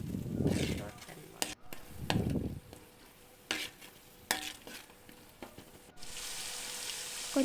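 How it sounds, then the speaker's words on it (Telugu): Ginger garlic paste frying in a pan gives a soft sizzle broken by repeated scraping stirs and spoon knocks against the metal, close and uneven in rhythm, with a steady hiss building toward the end. "అల్లం వెల్లుల్లి పేస్ట్ వేసుకొని ఫ్రై చేసుకోవాలి"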